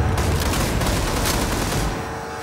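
Rapid, sustained gunfire in a modded zombies shooter, a loud dense stream of shots that barely pauses for about two seconds before tapering off.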